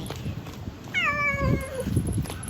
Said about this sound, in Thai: ตอนนี้เราเจอแมวเนาะ ที่คิดว่า เป็นแมวที่จะมากัดลูกแมวไป